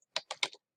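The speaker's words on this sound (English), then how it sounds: "you'd go to the web browser and you type in" A quick burst of four keystrokes on a computer keyboard while entering a web address, crisp close clicks in a short uneven cluster, then silence.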